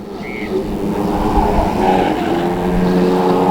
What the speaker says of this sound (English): So John Mason races down the back straight